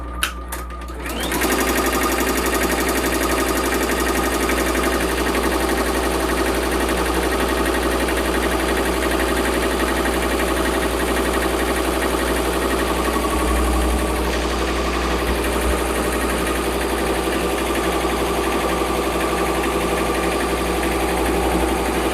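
A Tajima Sai 8-needle embroidery machine stitches a design onto a sweatshirt. It gives a loud, continuous, rapid mechanical chatter with a steady hum underneath, close by and uninterrupted, with no talking.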